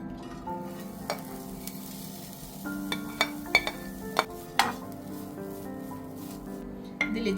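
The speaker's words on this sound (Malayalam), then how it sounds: "ഇനി കൊഞ്ചുകറിക്കുള്ള സാധനങ്ങൾ നമുക്കൊന്ന് വറുത്തെടുക്കാം." Coconut, fennel seeds and fenugreek roast in a pan with a soft steady sizzle, broken by sharp clinks and scrapes of a spoon stirring against the metal, close and moderately loud.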